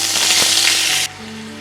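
White oil and butter sizzle loudly in a kadai, a steady dense frying hiss up close that cuts off abruptly partway, leaving a faint low hum.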